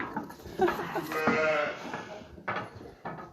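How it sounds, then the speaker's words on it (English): Sheep bleating at feeding time on a small farm, where a ewe with a lamb is among the flock; several bleats overlap one another, close and moderately loud, followed by a couple of shorter calls. "1/3 for the other ewe that has a lamb by her side."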